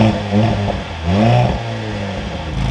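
A 2023 Mercedes-Benz C43 AMG 4MATIC fires up close by, the engine catching and flaring in a quick rising rev before settling into a rumbling idle.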